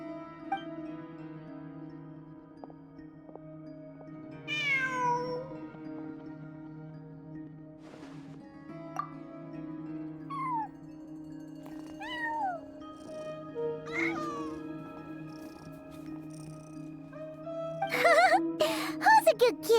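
Cat meowing in Genshin Impact: several rising-falling meows scattered across the scene over a steady low game-music drone, with a brighter burst near the end.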